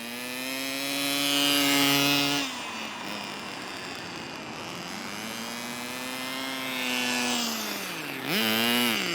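Kyosho Nitro Mini RC car's small nitro engine at full throttle, outdoors at dusk: a loud, buzzing whine that rises, drops away, climbs again, then surges sharply near the end.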